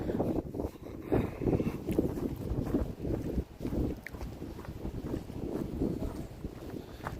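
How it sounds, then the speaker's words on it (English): Strong wind buffets the microphone on an exposed San Francisco hilltop, a loud, gusty rumble that surges and dips unevenly throughout. "Super windy up here, yeah."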